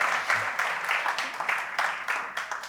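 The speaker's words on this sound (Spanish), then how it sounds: "un aplauso para Fernando Gómez Peralta." Audience applause at a presentation on the type 2 diabetes patient journey, close and fairly loud, swelling and easing in rhythmic waves, heard alone with no talking.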